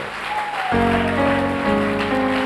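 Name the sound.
church congregation applauding to acclaim the Lord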